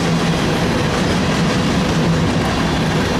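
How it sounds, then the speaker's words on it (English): A Norfolk Southern covered hopper freight train, led by an XUP locomotive, rolls by close on a cold afternoon in Glendale. A loud, dense, unbroken roar of wheels and cars fills the whole stretch, with no talking. "Covered hopper train here on this cold afternoon in Glendale."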